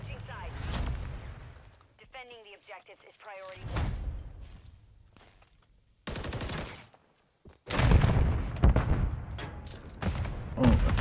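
Two grenade explosions in a shooter video game burst loudly one after the other, amid scattered gunfire and periods of talking.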